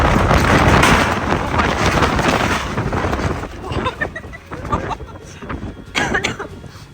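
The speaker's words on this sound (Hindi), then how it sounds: "बहुत ही तेज हवा चल रही है दोस्तों।" Strong gusty wind on a mountain trek to Kalsubai peak buffets the microphone in heavy roaring bursts that ease and return, with faint rattling of a tin shelter nearby.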